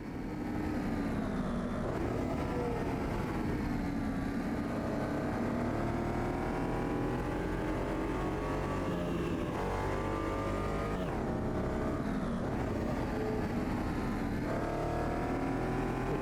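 Front-wheel-drive race car in Automobilista 2 racing steadily, its engine droning loud and continuous with shifting pitch as it accelerates and lifts through corners, no voices.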